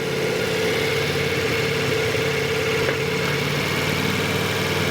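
A motorcycle engine runs at a steady idle-like drone during riding practice on circle and figure-eight drills, a continuous even hum with no change in revs, close and fairly loud.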